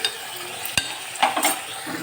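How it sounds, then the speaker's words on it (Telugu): Chicken is stirred in a pot while it cooks for ragi sangati, a short utensil scrape and faint sizzling with a couple of brief stirring bursts, close by and with no voices. "చికెన్ అయితే కొద్దిసేపు ఇలా కలిపి వదిలేద్దాము"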